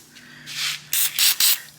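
Angry Farmer penetrating spray is sprayed from an aerosol can onto rusty bolts of a junkyard 351 Windsor engine, four close hissing bursts, the first longer and the last three short and quick.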